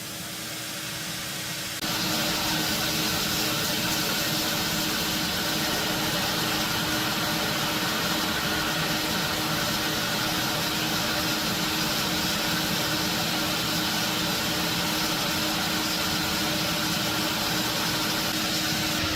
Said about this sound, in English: So I'll try to show you just a little blasting